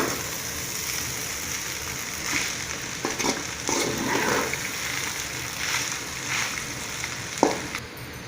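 Vegetable noodles with masala being stirred in a hot pan, a soft continuous sizzle with scraping and tossing noises at intervals and one sharp knock of the utensil near the end.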